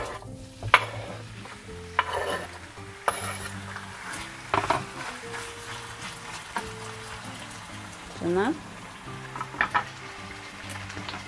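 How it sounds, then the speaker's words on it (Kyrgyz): Meat sizzling in oil in a pan while being stirred for Uyghur-style lagman, with a soft continuous fry under repeated scraping and clinking of a utensil against the pan, one word spoken briefly. "Суу майды куйгандан кийин муздак майга этти салабыз."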